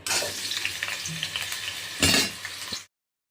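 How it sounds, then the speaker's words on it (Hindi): Boiled jackfruit and potato fry in hot oil in a kadai, a close, loud sizzle with stirring clinks and a sharp burst of crackle near the end before it cuts off. "अब कटहल को हम भूंज लेंगे।"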